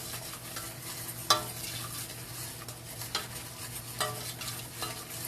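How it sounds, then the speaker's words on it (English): A spoon stirs a creamed chicken mixture in a pot on the stove, making quiet scraping strokes over a low, steady sizzle. A few sharper clinks come from the utensil hitting the pot, and no one talks. "So we stir that around."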